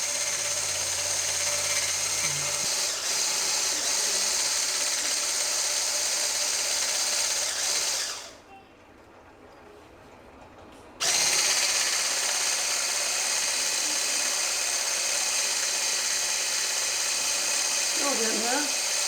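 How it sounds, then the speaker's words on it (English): A blender whips Dalgona coffee made with real espresso, giving a loud steady high whine that cuts out for a few seconds and then resumes at full strength. "we're just going to blend this up until it gets nice and creamy"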